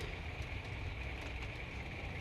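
Rain falls steadily on and around a truck camper parked in a store lot, a constant dense hiss with no voices.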